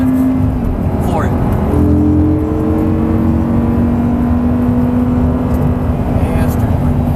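An Audi R8 accelerates hard at full throttle after an upshift, a steady loud engine drone rising gradually in pitch, heard from inside the car with engine noise throughout.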